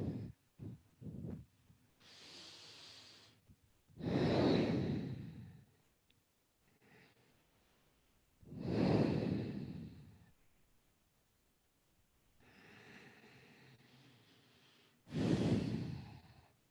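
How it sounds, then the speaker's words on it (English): Slow, deep breathing during a gentle yoga seated forward fold: several long, soft inhales and exhales, close and quiet, spaced by near-silent pauses in a calm room. "Take 3 deep breaths here."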